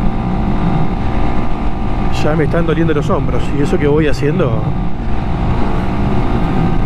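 A motorcycle on a road trip with a backpack along the Argentine coast toward Mar del Plata: a steady roar of engine and rushing wind fills the whole stretch while someone talks over it.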